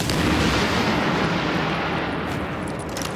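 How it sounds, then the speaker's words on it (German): A loud, close explosion in the video game The Division roars as a broad blast that slowly rolls off into a rumbling tail. "Oh, jetzt ist es explodiert."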